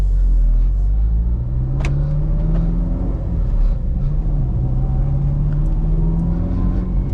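An 8th gen Honda Civic Si with a stock exhaust accelerates, its engine drone rising steadily in pitch as a loud, continuous rumble heard from inside the car.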